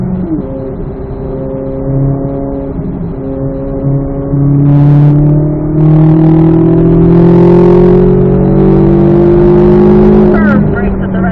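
A C8 Z06 Corvette accelerating hard on a race track, its engine note rising steadily and loud from inside the car, with a brief gear change near the end.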